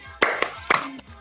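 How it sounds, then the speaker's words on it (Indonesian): A few sharp, separate claps from a group doing a rhythmic spirit clap during a training session, three close, loud strikes in quick uneven rhythm, then a faint fourth tap. "Tepuk semangat"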